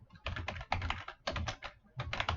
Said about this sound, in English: I'm typing a fake email address here.